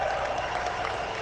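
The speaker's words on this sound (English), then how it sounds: "Give him a big round of applause for the anti-woke General." Audience applause for a retired general at a political event, a dense steady wash of clapping that stays loud and unbroken through the brief stretch.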